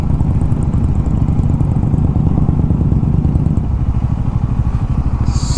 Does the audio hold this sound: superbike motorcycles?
yes